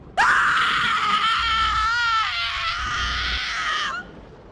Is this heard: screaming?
yes